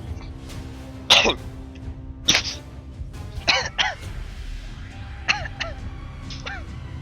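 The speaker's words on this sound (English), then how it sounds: "I don't want to clear my throat right on top of the mic." Several short throat clears and coughs, each a separate burst, close and fairly loud, with pauses between them.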